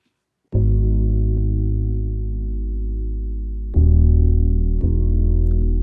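A thick, reverb-soaked synth bass in an FL Studio R&B beat sustains a long low note, then changes to two further notes, loud and alone with no drums or voice.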